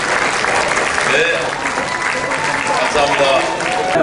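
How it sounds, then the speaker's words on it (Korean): Audience applause for President Joko Widodo as he enters a youth talk concert at Ajou University, a steady dense clapping that fills the whole stretch while a voice speaks briefly over it. "박수, 어플로드."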